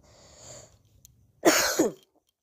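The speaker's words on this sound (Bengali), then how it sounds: "তো বন্ধুরা আমার একটু ঠান্ডা লেগে গেছে, তো তার জন্য ক্ষমা চাইছি মাঝখানে বলতে বলতে কাশি আসার জন্য" A person with a cold coughs once, a harsh, close and loud burst that lasts about half a second, after a faint breathy sound and quiet background.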